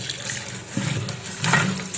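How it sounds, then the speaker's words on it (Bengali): Running tap water splashes steadily over three kinds of lentils being rinsed by hand in a kitchen, with a close, continuous gush and brief swells of sloshing. "এই যে এখন কিন্তু আমি 3 রকমের ডাল নিয়েছি, এটাকে এখন ভালোভাবে ধুয়ে নেব।"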